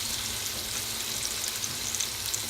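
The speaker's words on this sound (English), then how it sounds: "I'm going to put all the onion and the leek in there now" Chopped onion and leek sizzle in a hot pan with a steady, even frying hiss that holds at moderate volume, with no talking.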